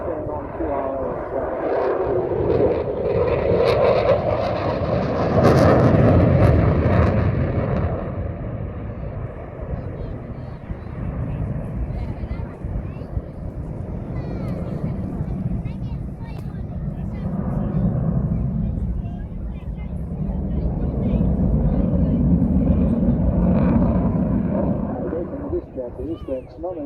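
A fast jet performing a slow roll at the Eastbourne International Airshow, its engine roar swelling and fading in long waves at a distance while a commentator talks over it.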